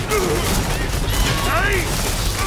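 A burst of gunfire in Borderlands 2 lands a headshot, loud and dense, layered over game noise with voices talking throughout.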